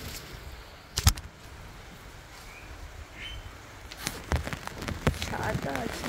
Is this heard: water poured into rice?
no